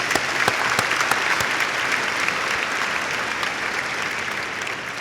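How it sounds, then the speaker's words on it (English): Applause for alumni and graduates at the Norwood High School 2015 graduation ceremony: a large crowd clapping in a dense, even roar that holds steady and loud for several seconds. "one last round of applause for all of our alumni and graduates"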